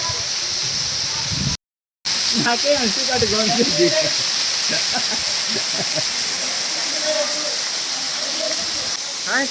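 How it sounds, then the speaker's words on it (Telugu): Katiki waterfall in Araku, source of the Gosthani river, gives a loud steady hissing roar throughout, with a voice talking over it and a brief dropout near the start. "కటికి వాటర్ ఫాల్స్కి వచ్చాం, చూసారు కదా."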